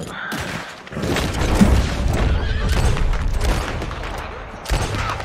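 Horse in the Red Dead Online video game neighing amid clip-clopping hooves and booming gunfire, a loud, busy in-game mix that carries on for several seconds.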